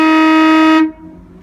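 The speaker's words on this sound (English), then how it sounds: "Sounds like this." An air horn fitted to a Land Rover Discovery gives one loud, steady, brassy blast of under a second, cut off sharply with a short tail of ambient noise, close by and with no voices.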